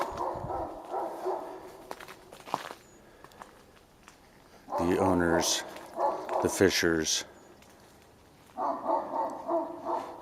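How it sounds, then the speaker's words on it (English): A dog barks at the back fence in several bursts of rapid, loud barks separated by pauses, with a person talking nearby between the bursts. "Just now the dog who's barking at the back fence"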